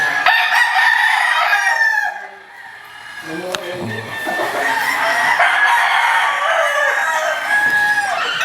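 Gamefowl roosters at Golden Dragon Game Farm crow loudly and close by, one long crow after another with clucking between them, while someone talks over the birds.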